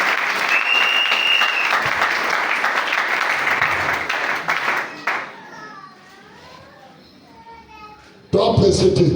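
A church congregation claps loudly and steadily to acclaim the Lord, a dense wash of applause that fades after about five seconds into quieter voices before another burst of clapping breaks out.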